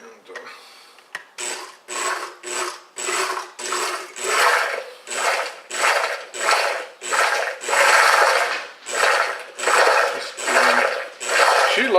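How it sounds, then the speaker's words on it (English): A small kitchen blender runs in short repeated pulses, about a dozen bursts of whirring separated by brief pauses, while mixing crepe batter with Splenda. "Put that right in the little blender."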